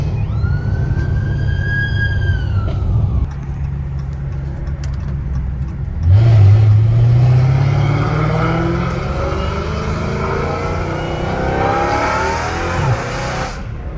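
A 797 hp Dodge Challenger Hellcat Redeye engine revs loudly, swelling upward into a rising roar midway and then holding a loud, sustained rumble, with no talking.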